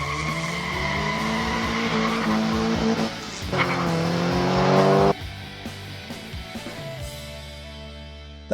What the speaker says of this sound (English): in the 1970 Hot Wheels Corvette